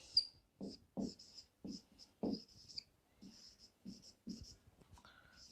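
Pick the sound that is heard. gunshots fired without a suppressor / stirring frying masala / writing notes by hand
writing notes by hand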